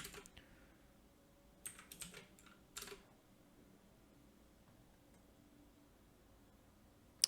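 Faint computer keyboard typing, a few short clusters of key presses with quiet gaps between them, heard alone in a quiet room.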